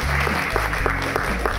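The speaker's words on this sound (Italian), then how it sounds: "Facciamo un altro applauso per Lorenzo Di Nicola." Audience at a film festival award presentation clapping in steady, moderately loud applause, while an amplified presenter speaks over it.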